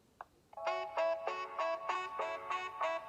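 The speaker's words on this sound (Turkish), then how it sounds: "Telefonum çalıyor." A phone ringtone plays a rapid, repeating electronic melody in even pulses after a couple of soft clicks, close and clear, with no talking.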